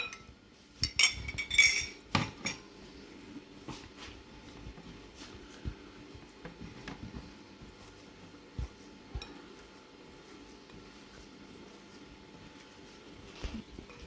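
A metal spoon stirs powder into milk in a bowl or cup, with a burst of clinks and scrapes early on and then sparse, quieter taps against the container.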